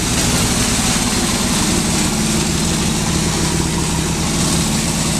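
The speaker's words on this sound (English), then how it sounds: "So it's running pretty good now, kind of a high idle, but I didn't want it to stall out." A hot rod Harley 45 motorcycle engine idles high just after its first start, a loud, steady, close rumble with no break throughout.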